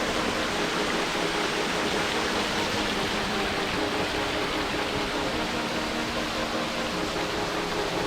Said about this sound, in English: As beautiful as this waterfall is, I could stay here all day